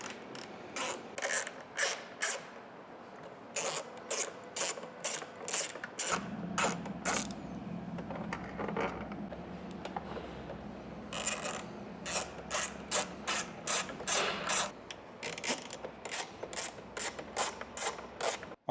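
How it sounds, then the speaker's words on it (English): A ratcheting driver with a T25 Torx bit clicks repeatedly while backing out side fairing bolts on a 2025 Harley-Davidson Street, close-up bursts of rapid clicking separated by short pauses, with no talking. "next we're going to remove the fairing by taking off the bolts on the side here, and you're going to use a 25 torque bits"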